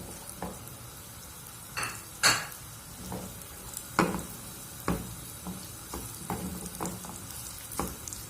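Onions frying in a pan for smoked fava beans, a soft steady sizzle broken by intermittent clicks and scrapes of a utensil stirring against the pan.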